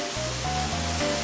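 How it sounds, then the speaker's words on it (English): A waterfall roughly twenty feet tall rushes as a continuous broadband roar, steady and moderately loud, heard from a distance with no other sounds. "there's another waterfall down there"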